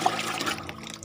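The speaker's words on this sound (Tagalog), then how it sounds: "dagdagan pa natin ng tubig" Water poured into a container as a drink for a cow, a short, soft splashing trickle heard close by.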